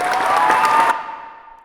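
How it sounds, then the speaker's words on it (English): Audience applause of a crowd with a burst of clapping that cuts off abruptly and leaves a fading ring, loud and close for under a second. "Applause."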